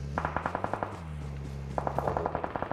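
Automatic gunfire in the mobile battle royale game PUBG Mobile, two rapid bursts of repeated shots separated by a short pause, steady and moderately distant over a low background hum.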